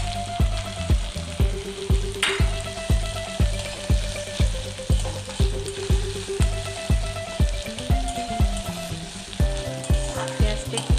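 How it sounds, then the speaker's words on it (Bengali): Chopped onion, cut large, frying in a pan with fenugreek and spices for a dhaba-style bhindi masala, giving a steady close sizzle with regular rhythmic stirring scrapes throughout. "এবার এর মধ্যে আমি একটা বড় সাইজের কুচনো পেঁয়াজ দিই।"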